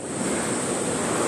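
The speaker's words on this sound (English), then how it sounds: "This is another wild side of Palolem beach in Goa, India." Ocean waves wash steadily onto Palolem beach in Goa, India, a continuous loud roar of surf mixed with wind noise on the microphone.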